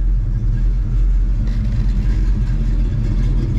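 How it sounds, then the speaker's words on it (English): A 1971 Chevrolet C10 pickup's engine rumbles loudly and steadily through its exhaust, with a deep continuous low growl and slight throttle swells, close to the truck. "Truck's got a really nice sound, good crisp throttle response as well."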